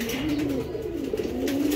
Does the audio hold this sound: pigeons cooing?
yes